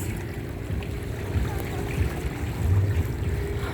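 Sea waves at the shore at Florya and Yeşilköy on the Marmara coast, a low rolling wash of surf with swells building and easing, close and fairly loud, with no talk.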